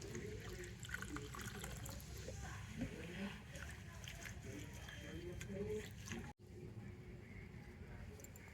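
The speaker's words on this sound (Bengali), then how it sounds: "এবার আমি একটু জল দিয়ে ভালো করে ধুয়ে নেব" Papaya leaf rinsed under water: continuous splashing and trickling close by, with a brief break near the end, while a voice talks over it.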